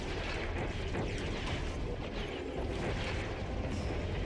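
Bombs exploding in the underwater game Song of the Deep, a dense, continuous rumbling roar of blasts with no distinct breaks, moderately loud throughout.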